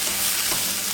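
A lentil curry is stirred in a hot pan: a steady, close sizzle mixed with soft scraping and bubbling, lasting about a second, with no talking.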